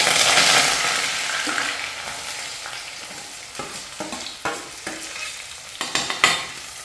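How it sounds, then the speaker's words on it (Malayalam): Ginger and garlic fry in hot oil just after mustard seeds have popped, for a Kerala fish curry: a loud, close sizzle at the start that gradually softens, broken by sharp scraping stirs near the end. "നമ്മൾ കടുക് പൊട്ടി നമുക്ക് നമ്മുടെ ഇഞ്ചി വെളുത്തുള്ളിയൊക്കെ അങ്ങോട്ട് പോകും"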